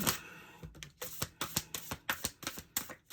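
A deck of cards is shuffled up close: a quick run of crisp, papery slaps and flicks in an uneven rhythm, with no talking.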